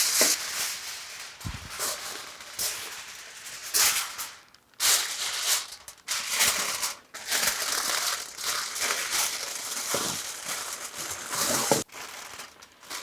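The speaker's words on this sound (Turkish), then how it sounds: "Şimdi aynı işlemi alüminyum folyo ile tekrarlayacağım." Aluminium foil crinkles and crumples continuously as meat is wrapped in layers, a close, loud, dense rustling with brief pauses between handfuls and no talking.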